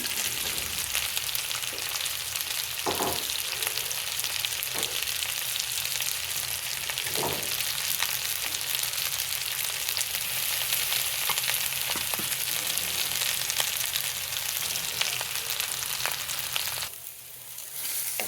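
Eggplant pieces fry in hot oil in a pan with a steady, loud sizzle that runs throughout. Occasional soft stirring clicks come and go, and there is no talk.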